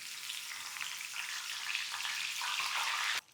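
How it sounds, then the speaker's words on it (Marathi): Mint leaves fry in hot oil for a green chivda seasoning, a steady close sizzle with a faint stir or two, cutting off abruptly at the end. "आता पुदिना सुद्धा छान असा तळून घेऊ"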